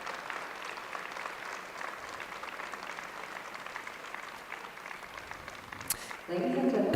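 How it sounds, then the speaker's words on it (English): An arena crowd at a junior women's figure skating competition in Ostrava applauds in a steady distant wash of clapping, with a commentator's voice cutting in briefly at the very end. "And now the applause"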